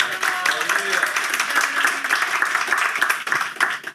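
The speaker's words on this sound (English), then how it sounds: "why don't you just clap, let her know you love her." A church congregation claps together in a sustained burst of applause, even and close, with faint voices mixed in beneath the clapping.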